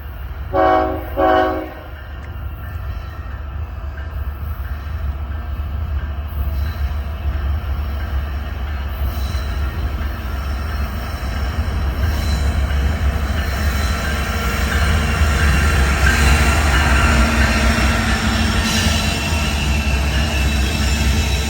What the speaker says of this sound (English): here came a southbound BNSF intermodal slowing for its crew stop in Greenville